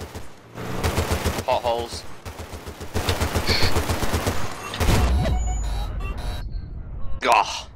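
Gunfire in Battlefield: Bad Company 2, with rapid repeated shots in bursts, loud and close, mixed with vehicle rumble and explosions, while players shout and talk over it.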